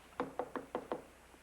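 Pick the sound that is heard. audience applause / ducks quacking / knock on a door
knock on a door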